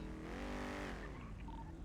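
A car in a NoPixel GTA roleplay game revs loudly as its engine note climbs and falls, then tires squeal and skid briefly, all close and steady with no talking.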